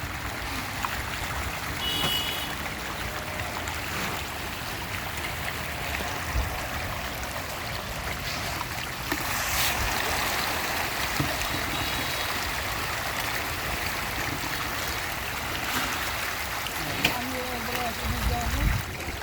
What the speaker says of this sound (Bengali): মাছগুলি খুব লাফালাফি করে, খুব আগ্রহ সহকারে তারা ফিড নিচ্ছে।